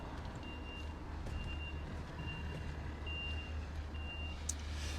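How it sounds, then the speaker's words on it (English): Vehicles disembark from the MV Hamnavoe ferry at Scrabster, with a truck's reversing alarm beeping in a slow regular pattern over a low engine rumble, moderately distant and with no voices. "all the cars are disembarking"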